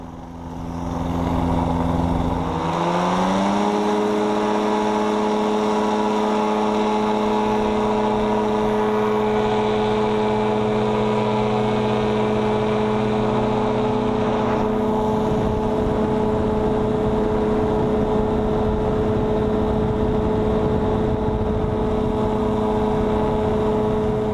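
A light aircraft engine idles, then rises in pitch and settles into a loud, steady drone with strong harmonic hum as the plane readies for takeoff, close and continuous with no talk.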